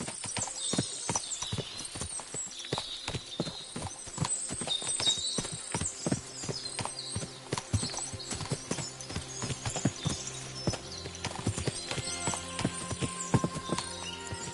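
Many horses' hooves clip-clop in a busy, irregular patter, with an occasional whinny; a game-like soundscape without talk.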